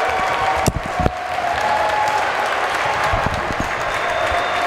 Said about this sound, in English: Gets a round of applause from both sets of fans for the effort on that one.